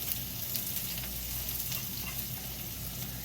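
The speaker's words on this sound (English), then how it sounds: "I'm just gonna add my seasoning to the pot. You're gonna hear it." Seasoning dropped into hot oil in a cooking pot for an omelette, giving a steady, close sizzle and crackle that holds evenly for a few seconds with no one speaking.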